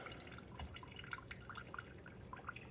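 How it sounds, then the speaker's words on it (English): A Hamilton Beach FlexBrew single-serve coffee maker trickling freshly brewed coffee into a cup, with faint irregular drips and a soft liquid patter, quiet and close. "So here we've got the coffee coming out on this."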